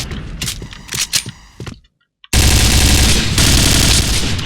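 Rapid automatic fire from an AUG A3 rifle in the shooter game Point Blank bursts loud and dense after a brief silence, following scattered earlier shots.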